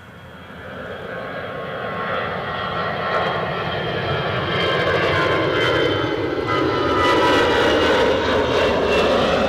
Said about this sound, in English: Mark, leaving just now, we have the Edinburgh to Amsterdam EasyJet.